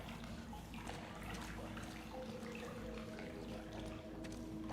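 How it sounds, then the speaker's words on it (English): Water sloshing and splashing as footsteps wade through a bug-infested cavern pool in The Outer Worlds, a steady, fairly faint watery churn that runs through the whole stretch. "Is anyone else a little nervous of stepping into water in bug-infested caverns?"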